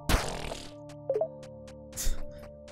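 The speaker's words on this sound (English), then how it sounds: "Maybe that's the farting noise you guys were hearing and asking about" A cartoonish farting noise in the video game Forager, a loud blurting burst followed by short squeaky toots and another blast, set against a looping tonal game soundtrack.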